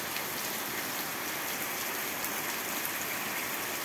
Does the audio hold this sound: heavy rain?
yes